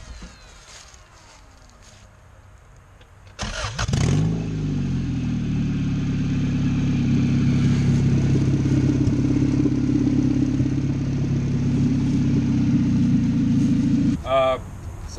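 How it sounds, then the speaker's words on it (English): A Honda CRX project car cranks and fires up after a quiet stretch, then settles into a loud, rough idle with mechanical clatter, close by, while people talk nearby. "Can you turn on the car just real quick just to see how easy it turns on? Yeah, it's going to be loud."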